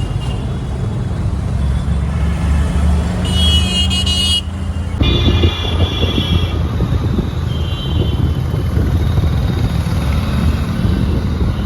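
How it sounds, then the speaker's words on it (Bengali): A car drives along a road with a steady rumble of engine and tyres, a brief high horn-like toot partway through, and continuous traffic noise. "আমরা গাড়িতে উঠে পড়তাম এখন যাচ্ছি স্টেশন"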